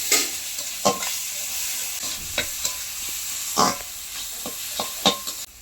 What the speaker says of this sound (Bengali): হালকা আঁচে তো মশলা কষিয়ে নিয়েছি ভালো করে